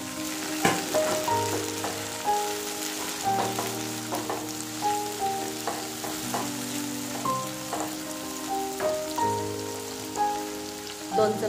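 Finely chopped tomato frying in hot oil for spiced fusion rice, a steady close sizzle and crackle with soft spattering pops throughout, no voices.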